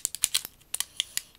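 A cosmetics package is cut and torn open, giving a quick series of sharp, faint snipping and crinkling clicks close by, with no talk.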